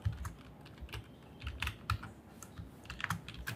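Python code is typed on a computer keyboard in a quick, uneven run of close, soft key clicks with small pauses between bursts. No voices are heard.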